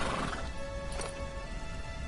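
A horse neighs in the video game Dragon Quest XI: Echoes of an Elusive Age, a whinny over a loud, busy in-game background with clip-clop and crashing effects, with no talking.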